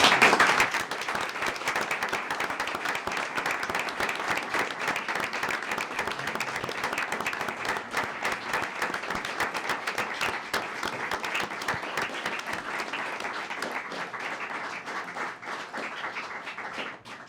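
Sustained applause from an audience at a city council meeting, greeting a police sergeant named supervisor of the year; dense, steady clapping fills the room for about seventeen seconds, easing slightly toward the end.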